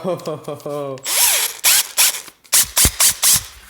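A cordless drill whirs in a string of short, loud bursts, each stopping and starting again in a quick rhythm after a brief tone at the start.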